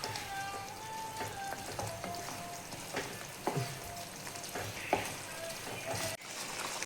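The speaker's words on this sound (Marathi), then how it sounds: "मंद आचेवर आपण ह्याला 5 ते 10 मिनिट आपण चांगली भाजी शिजून देऊया." Soybean bhaji simmers and sizzles in a pan over a low flame, with a steady frying hiss and scattered soft pops and clinks throughout.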